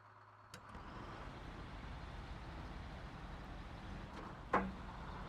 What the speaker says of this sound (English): I do really like the sound of this truck